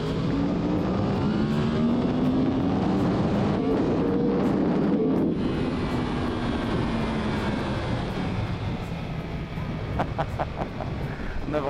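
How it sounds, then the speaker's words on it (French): A Yamaha YZF-R1 sport motorcycle engine rasps huskily on the road, its pitch rising and falling under continuous loud wind rush. "la sonorité du moteur, ce petit bruit rauque là."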